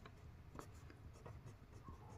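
Pen scratching on paper while a math problem is worked out, a steady run of short strokes and taps close to the listener, with no voices.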